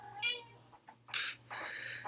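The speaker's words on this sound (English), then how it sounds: "So, there's the cat. What's she doing?" A female cat gives several short, close meows separated by brief pauses, over a faint steady low hum in a quiet room.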